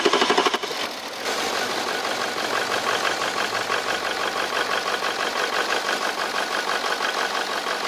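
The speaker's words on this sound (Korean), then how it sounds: "이 상태로 시동을 한번 걸어볼게요" Audi Q7 4.2 TDI diesel engine, oil-soaked after a popping fault, cranks briefly then settles into a loud, steady, rough idle with a rhythmic knock, heard up close without talk.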